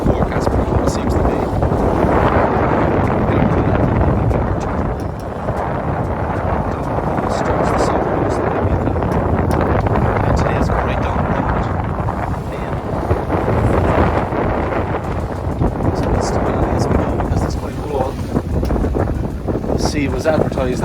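Strong gusting wind buffets the microphone while sailing a yacht in the bay near Santa Eulalia, with a steady loud roar, surging gusts and water noise, and talk underneath.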